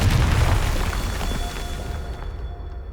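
A deep, rumbling blast from the Confringo fire spell in Hogwarts Legacy, loud at the start and then trailing off into a fading low roar with faint tonal ringing.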